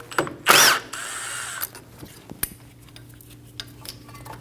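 A power tool with a 10mm socket takes out a brake bracket bolt on a 2003-2025 Chevrolet Express 2500, giving one loud, close whirring burst, then scattered clicks and small metallic knocks over a low steady hum.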